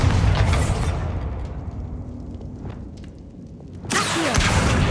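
Blast from the Bombarda spell in Hogwarts Legacy: a loud, broadband burst opens the moment, fades into a low rumbling tail, then a second heavy blast hits near the end.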